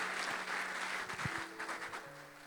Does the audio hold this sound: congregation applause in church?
yes